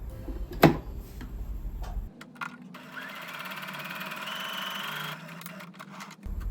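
A Brother sewing machine runs a test line of stitching, with a few sharp clicks first and then a steady mechanical whir lasting about two seconds before it stops.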